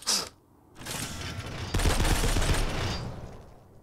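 Gunfire in a post-apocalyptic zombie shooter game. A short burst comes first, then sustained rapid firing swells in and rattles on loudly for about two seconds before fading away.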